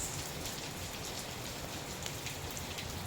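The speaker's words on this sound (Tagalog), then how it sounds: "Umuulan dito ngayon sa Jensen." Heavy rain pours steadily outside a house in General Santos, a dense, unbroken hiss of drops striking surfaces, loud and constant throughout with no pauses.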